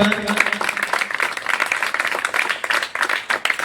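Audience applause at a charity swimming event at MH Club & Resort in Ranchi, steady clapping from a gathered crowd filling the clip with some voices mixed in.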